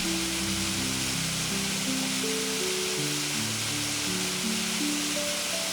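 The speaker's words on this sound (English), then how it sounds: "I have arrived at a hidden waterfall, nestled between imposing rock walls" A hidden waterfall tucked between tall rock walls gives a steady, loud broadband rush of falling water, with soft sustained low tones running beneath it for the whole stretch.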